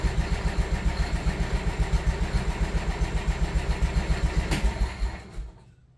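A 1988 Club Car DS golf cart's gas engine fires up and chugs along at a steady, pulsing idle close by, then cuts off and fades to silence near the end.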